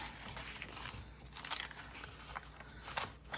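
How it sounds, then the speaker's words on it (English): Crisp, dry dyed book-page paper in a junk journal crackles and crunches as it is handled, with a series of short, close crinkling bursts at a low level. "Crispy, crunchy paper."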